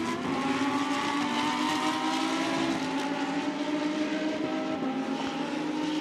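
Lamborghini Super Trofeo race cars on the final lap at Shanghai, a sustained loud engine roar with steady droning tones holding for several seconds as the pack passes, no voices over it.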